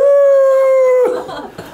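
A person imitates a wolf howling with a single long, steady vocal tone held for about a second, close and loud, then trailing off into rough, breathy sounds during a Buddhist temple talk.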